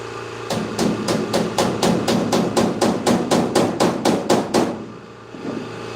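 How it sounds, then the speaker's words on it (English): Rivets hammered into a 7.5 gauge railroad car, a fast, loud, evenly spaced run of about fifteen metallic blows close by, stopping abruptly near the end. "Getting some rivets in here."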